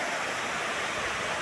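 Steady broadband rush of a rain-swollen waterfall fed by several small cascades near a ranch reservoir, continuous and fairly close with no pauses.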